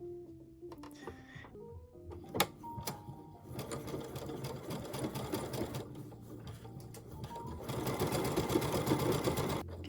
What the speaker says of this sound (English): I'm just going to sew right off the end of this